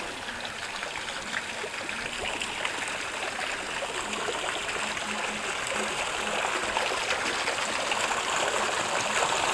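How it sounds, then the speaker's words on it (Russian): Steady flowing water from a fountain on the Cascade Stairway in Zheleznovodsk, a continuous close splashing rush with no break across the whole stretch. "Вот еще один фонтан."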